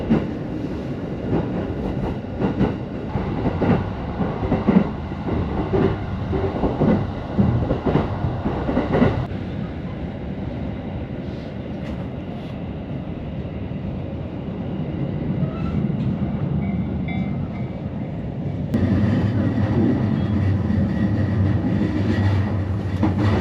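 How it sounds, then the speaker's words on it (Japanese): A commuter train pulls into a station platform on a rail route from Omiya to Oyama, with a steady rumble of wheels and carriage noise that dips, then swells again as the cars roll past. "ようやくホームに電車がやってきた。"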